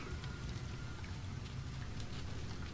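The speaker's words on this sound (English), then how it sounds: "over there, it's still raining in the cave." Steady rain falls inside a cave in the video game No Man's Sky, a dense, even patter with a low rumbling wash, continuous and fairly loud throughout with no voices.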